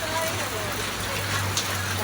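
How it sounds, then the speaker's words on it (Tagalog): Steady rain hisses and patters on surfaces during flooding, a dense continuous wash of noise with a low hum underneath. "Isang oras na nagpahinga yung ulan tapos ay umulan na naman."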